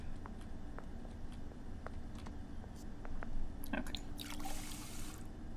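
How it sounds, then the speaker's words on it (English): In The Sims 4, a Sim gets water: soft drips and taps lead into a brief trickling pour near the end, quiet over a steady background hum. "Oh, just getting some water."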